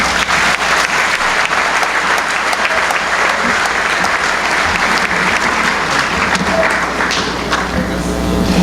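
Loud, dense applause from a large crowd at a high school graduation ceremony, continuous and steady from start to finish.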